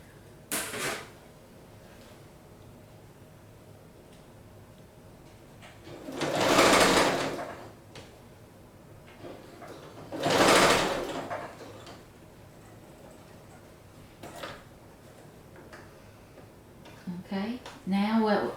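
Two bursts of a sewing machine stitching quilt pieces for an hourglass quilt, each lasting a couple of seconds, with quiet pauses between and light handling noises near the end.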